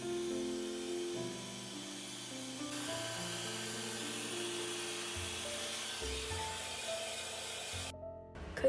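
A handheld hair dryer blows out hair against a round brush for a volume blowout, giving a loud, steady whirring rush close to the microphone for about eight seconds before cutting off abruptly at the end.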